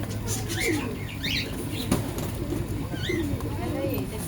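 Pigeons at a pigeon shop flutter their wings and coo in a busy, close cluster, with a voice talking over the steady flapping and calls.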